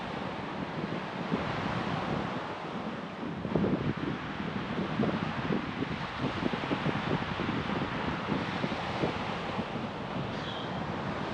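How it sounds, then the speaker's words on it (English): Strong wind buffets the microphone on an open beach during shore fishing, with a steady loud rumbling roar and gusts throughout, and faint surf underneath. "that wind's straight in your face now, it's well picked up"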